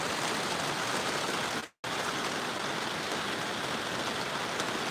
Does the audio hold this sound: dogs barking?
no